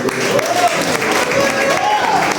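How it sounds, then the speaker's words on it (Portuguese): A church congregation claps together after a prayer, a loud dense burst of applause with voices calling out and a sung or spoken tone rising above it. "todos aqueles que querem fazer essa oração, dê uma salva de palmas"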